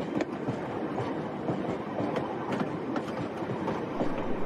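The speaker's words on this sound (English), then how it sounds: "Is the train supposed to be going this fast down this mountain?" A video game train barrels down a mountain, its wheels rattling in a rapid clickety-clack over a continuous rumbling roar, loud and close with no talking.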